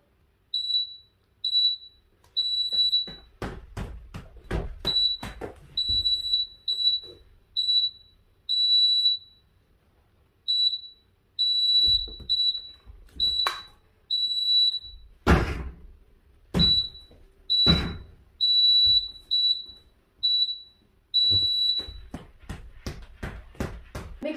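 GymNext Flex Timer interval alarm for a martial arts leg control drill: a repeating series of short, high electronic beeps in steady bursts, with loud thumps and impacts of kicks between them and no talking.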